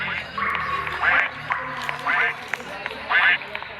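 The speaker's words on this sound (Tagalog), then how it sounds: "Beware the duck." Cartoonish duck quacks from the video game Escape Miss Ani-tron, four bright bursts at a steady rhythm, each following the last under a game soundtrack.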